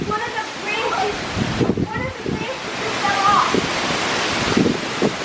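Strong wind from Category 4 Hurricane Ian roars continuously during landfall, a dense rushing noise with gusty surges, while people talk over it.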